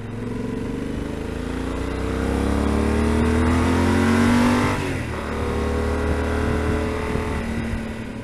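A car engine revs hard and climbs through the gears to pass slower cars on a Scottish road near John O'Groats, a loud, close, sustained roar that swells and then eases off, with no talking.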